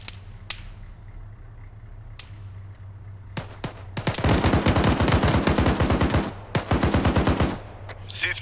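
Rapid bursts of .50 caliber machine gun fire in a military video game, loud and close, with a few isolated shots before sustained strings of rounds.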